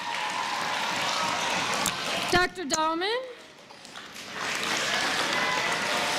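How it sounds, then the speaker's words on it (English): Applause for adult helpers at a school event, a steady patter of clapping that fades briefly while a voice speaks a name over it, then swells back. "Round of applause."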